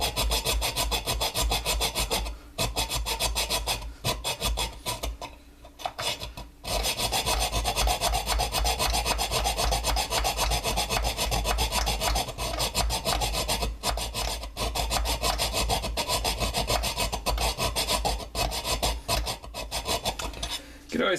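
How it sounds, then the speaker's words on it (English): Steady rasping of a round file working metal between two drill holes on a box mod, continuous back-and-forth strokes filling the clip, close and loud, with a couple of brief pauses early on. "I'm just going to let the file eat out the metal between the two drill holes."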